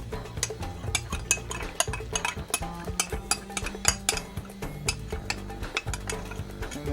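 Melted butter is stirred into chocolate and chopped nuts for a pony pie, a spoon clinking and scraping against a bowl in a steady, close rhythm.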